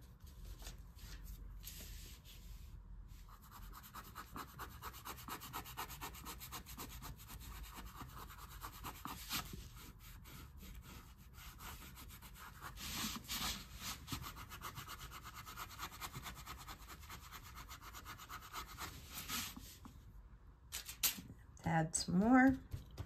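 A paintbrush scrubs white paint across a surface in quick, steady, scratchy strokes, close and soft, with a few pauses and louder strokes near the end.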